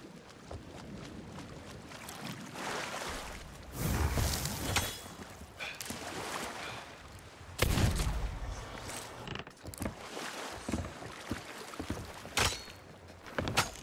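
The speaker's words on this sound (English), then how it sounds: "I'm going to play two clips here, one of the normal splash sound" Water splashes as a player climbs aboard a wooden pirate ship in Sea of Thieves, with creaking hull and sloshing sea ambience; two louder splash bursts stand out against steady water movement.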